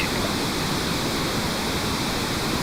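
A recorded CubeSat 437 MHz satellite radio signal plays back as steady, unbroken broadband hiss, loud and even from start to finish.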